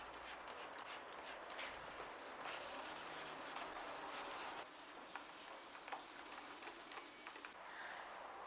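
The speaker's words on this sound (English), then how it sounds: "do some bit of wet sanding on this to get rid of these high spots here" Wet sanding an Aston Martin DB9 headlight by hand, a steady soft rubbing and scrubbing in repeated strokes, quiet and close with no talking.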